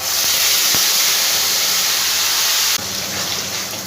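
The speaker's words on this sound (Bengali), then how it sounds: "এবার আমি এর মধ্যে দিয়ে দেবো আদা আর কাঁচা লঙ্কা বাটাটা।" Ginger and green chilli paste hits hot tempering in a pan with a loud, steady hissing sizzle that drops slightly in intensity partway through.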